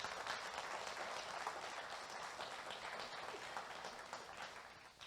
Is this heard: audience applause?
yes